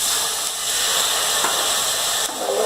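Ginger-garlic paste frying in a pan, giving a steady, close, loud sizzle and hiss with no talking.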